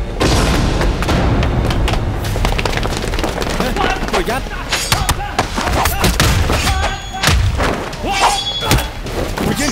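Gunfire in a Hong Kong TVB action drama scene: loud, sharp bangs and thuds crowd a dense, chaotic mix, with shouting voices breaking in among the shots.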